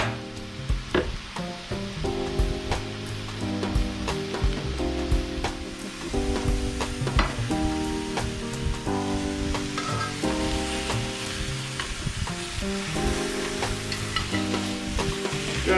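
Peppers and other vegetables fry in a hot pan for chicken tortilla soup, giving a steady close sizzle with scraping stirring clicks throughout, over a tonal, music-like background layer.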